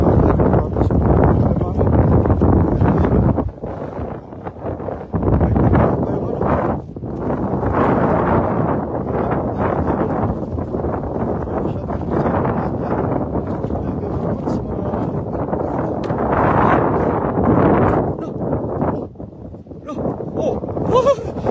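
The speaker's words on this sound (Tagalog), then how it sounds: "Sobrang lakas ng hangin, kaya pasensya na." Strong night wind roars and buffets the microphone beside a village river during crab catching, a loud, steady rushing that dips briefly now and then and runs nearly the whole time.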